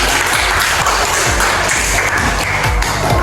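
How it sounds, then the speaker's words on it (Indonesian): Classroom applause for student groups in a school maths lesson, a dense, steady burst of many hands clapping together, loud and close, with no voices over it. "Mari kita berikan aplaus untuk mereka"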